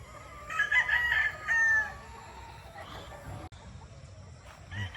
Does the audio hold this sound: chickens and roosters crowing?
yes